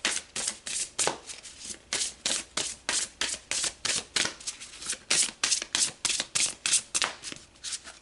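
An oracle card deck being shuffled in a fast, even rhythm of crisp riffling bursts, about two or three per second, close and steady, with no talking.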